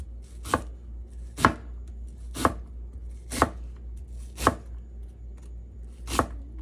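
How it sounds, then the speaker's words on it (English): Knife strokes cutting burger meat into larger slices on a board, six sharp distinct chops spaced about one second apart, close and clear with no talking. "I'm just gonna chop it up in bigger slices"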